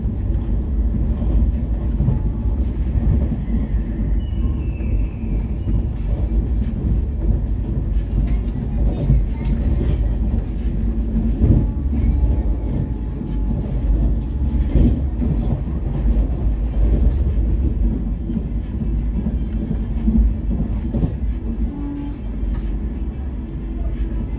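An LHB Garib Rath Express rolls steadily past Kadalundi station, a continuous loud rumble of wheels and rail noise with faint clicks, heard from onboard without a break.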